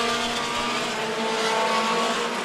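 Stock cars racing at Stockton 99 Speedway, a steady loud roar of several engines with some sliding and bumping, continuous and fairly close throughout.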